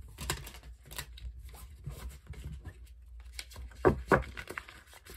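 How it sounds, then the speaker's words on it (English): Tarot cards riffle and slap in quick, uneven bursts, with soft rustling and shuffling close by, several brisk flurries in a row. "I do want to do some shuffling for you."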